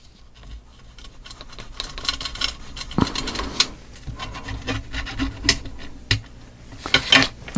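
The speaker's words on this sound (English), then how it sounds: "let's burnish this down into that glue really" A burnishing tool rubs paper down onto glue, giving soft, close scraping and rasping strokes in irregular bursts with occasional light taps, no voices.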